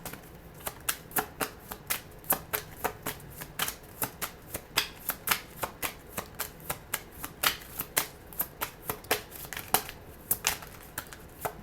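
Tarot cards are shuffled in a rapid, steady run of crisp riffling snaps and flicks, close and fairly quiet, continuing without pause.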